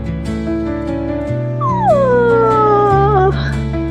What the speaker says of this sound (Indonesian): Suara geraman berganti menjadi erangan